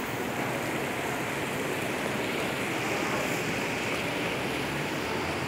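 Water waves rush in a steady, broad, continuous wash with no clear breaks, moderately loud and unbroken from start to finish, with no talking.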